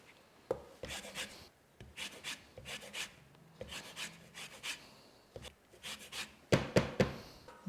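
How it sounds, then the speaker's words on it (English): A lemon rubbed against a grater in short, rhythmic rasping strokes, close and crisp, with brief pauses between passes while cooking an octopus stew. "I'm going to zest in my lemon."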